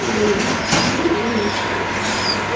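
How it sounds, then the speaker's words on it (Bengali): Soft, low pigeon coos close by at a pigeon market over a busy background hum, with no speech. "এটা কি কবুতর ভাই"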